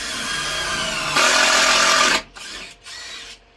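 Power drill driving screws into 2x4 lumber while a workbench is built, a close, loud whirring run that rises in pitch, then two shorter bursts with brief stops between.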